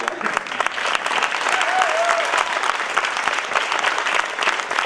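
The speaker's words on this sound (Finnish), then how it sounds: "Nyt te annetaan vielä yhdet aplodit" Steady, dense applause from a crowd at a dance event held in a school, continuous clapping of even loudness throughout, with a brief voice rising faintly over it.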